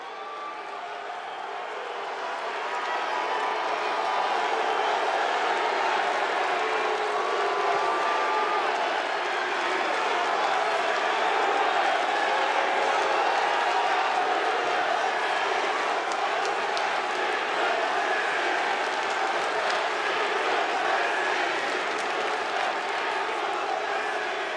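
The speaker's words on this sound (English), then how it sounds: "Some are cheering, some are booing, but they are making noise here in the Joe" A wrestling arena crowd at the Joe roars with a mix of cheers and boos for Brock Lesnar versus Goldberg, a dense, sustained wall of voices that builds after a quieter opening and holds loud throughout.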